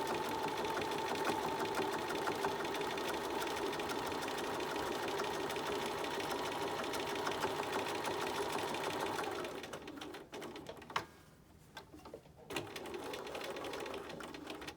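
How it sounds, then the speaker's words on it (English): A sewing machine stitching a pleated fabric mask runs in a steady, fast, close whir, then stops and sputters in short bursts near the end before starting again. "just make sure your presser foot's not getting caught on those pleats"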